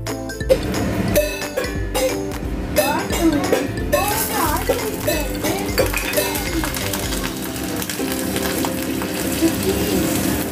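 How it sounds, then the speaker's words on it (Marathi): Mustard seeds, curry leaves, chilli and coriander tempering in hot oil for dhokla, a busy close sizzle and crackle with metallic clinks of a spoon against the pan, and a voice now and then. "मी मोहरी, कढीपत्ता, मिरची, कोथिंबीर आणि मग थोडंसं तडका चांगला बसला"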